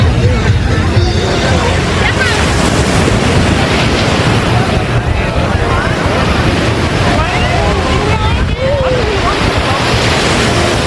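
Strong ocean waves surge and break continuously on a white-sand beach, a loud, dense wash of surf with wind buffeting the microphone throughout.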